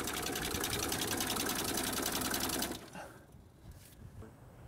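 Mercedes-Benz diesel engine from the late 1970s to mid 1990s, running after the key is removed: a loud, even rattling idle that suddenly drops off partway through, leaving faint mechanical noise.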